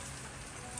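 Steady rain falls outdoors during a rainy Swedish summer while a house exterior is being painted, making an even, continuous hiss of drops on surfaces with no voices.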